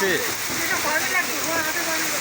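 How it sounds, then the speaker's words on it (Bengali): Heavy rain on a street in Gulshan hisses continuously in a dense, steady wash, with faint chirping tones underneath and no clear speech. "বৃষ্টি কিন্তু অনেক ভয়াবহ হইতেছে"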